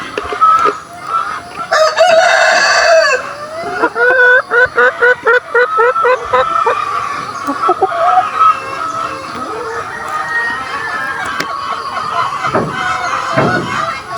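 Chickens clucking and a rooster crowing loudly nearby, with overlapping calls from several birds and a faint human voice at moments.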